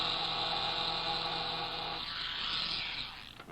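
An old-fashioned electric shaver drones steadily as it is held against velvet on a 1954 television broadcast. The buzz shifts in tone partway through, then fades near the end.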